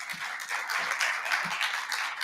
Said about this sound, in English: May we kindly give a round of applause for him.